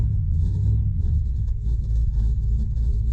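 Steady low engine rumble from the FABRATS giveaway car as it pulls away after front suspension repairs, a continuous droning hum with no clear revving and no voices.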